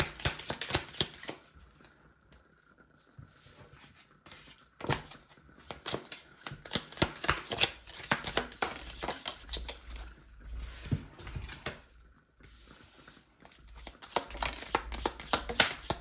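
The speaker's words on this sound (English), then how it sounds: "I'm shuffling off camera." Tarot cards shuffled off camera, a run of soft, rapid riffling and patting bursts with brief pauses between them, fairly close and moderately quiet, with no talking.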